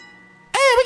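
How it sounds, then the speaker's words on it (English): A phone rings in the video game The Legend of Heroes: Trails to Azure. The bright electronic ring starts suddenly after a sustained musical tone and stays loud through the end of the short snippet. "Hey, we got a phone call!"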